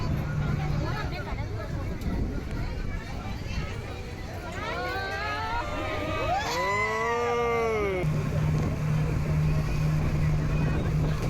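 A tourist motor boat at Kanyakumari drones steadily with broadband engine and water noise, and people talk throughout over the running boat.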